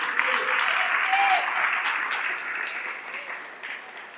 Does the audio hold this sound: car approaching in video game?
no